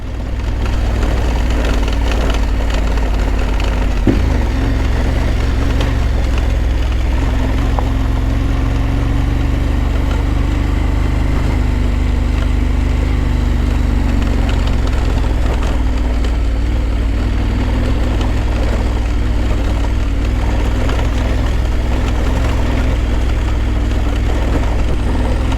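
A big KTM motorcycle rides slowly along the rough dirt of the Gibb River Road, a steady loud engine drone with rumbling and occasional knocks from the rough surface, and no talk.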